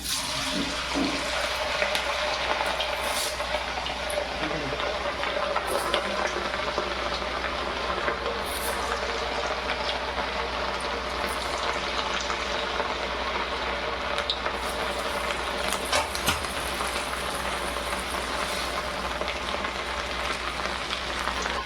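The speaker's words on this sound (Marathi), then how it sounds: "तेल गरम झालं आहे आता एक एक आपण त्याच्यात टाकून घेऊ" Semolina medu vadas frying in hot oil, a loud, unbroken hiss of bubbling oil that holds steady and close throughout, with occasional faint clinks and no speech.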